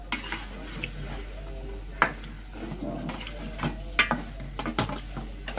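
Crushed cumin and spices sizzle softly in a pan while a utensil stirs and scrapes, with occasional clinks against the metal.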